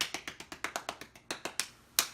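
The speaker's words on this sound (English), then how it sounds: "But I still applaud Sasha with the golf clap" A single pair of hands gives a soft, polite golf clap, about a dozen light, evenly spaced claps close up, ending in a slightly louder final clap.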